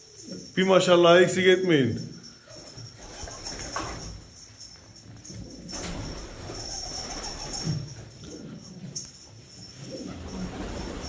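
Pigeons coo in a coop at a bird festival in a hidden valley in Hatay, a loud burst of throaty calls close by at first, then softer cooing and rustling continue while someone talks over them.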